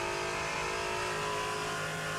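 A race car engine in the video game Assetto Corsa, heard from the onboard view, drones steadily at high revs, a continuous buzzing whine without pauses.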